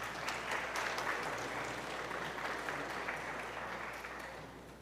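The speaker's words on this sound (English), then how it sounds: "Please give them a round of applause." Faint, distant audience applause at a student project session, an even wash of many hands clapping that slowly tapers off.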